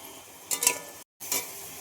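Ginger, cumin, garlic and onion paste fries in a pan with salt, turmeric and chilli powder, giving soft sizzling broken by a few clinks and scrapes of stirring.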